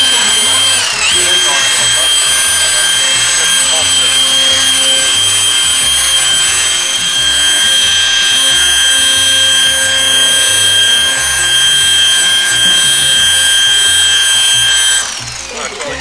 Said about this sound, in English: once that we have buffed it with our buffing pad